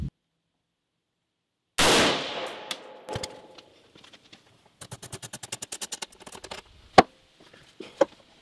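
A single loud, sharp gunshot fired about a foot from paper, through a Strike Industries Oppressor muzzle device, bursts out of silence, followed by a ringing decay and a run of quick clicking, rattling sounds with a couple of later sharp knocks.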